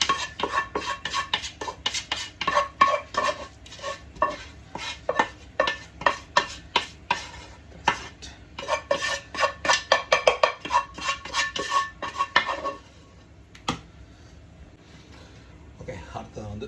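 Utensils stir and scrape noodles in a pan for a Sri Lankan seafood and chicken noodle dish, a dense run of sharp metallic clacks and scrapes that stops abruptly near the end, then quiet room tone.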